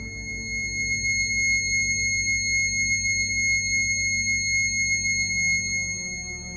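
A steady synthesized high C sharp tone sounds at a frequency of 2160, continuous and even throughout, with a faint pulsing low drone beneath it and no talk.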